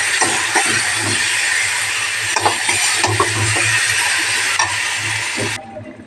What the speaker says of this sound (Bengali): এবার এটাকে আমি ভালো করে ভেজে নেব।